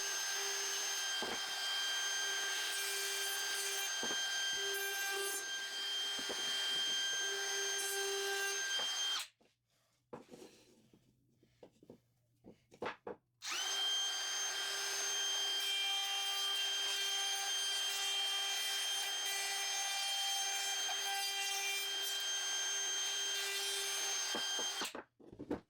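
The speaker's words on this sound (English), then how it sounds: "I'm routing the edges I can reach with an 8-inch round over bit." A router fitted with a 1/8-inch round-over bit shapes the edges of a wood offcut, a loud sustained whine that runs for about nine seconds, stops briefly with faint handling noise, then starts again at full volume.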